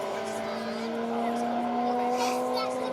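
A Ford Fiesta ST rally car on a stage at the Hills Ford Stages, its engine a steady sustained drone heard at a distance, with a commentator talking over it.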